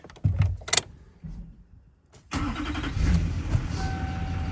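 A few clanks and rattles, then the diesel engine of an LLY Duramax truck that sat for ten years cranks and catches, settling into a steady rumbling idle close by.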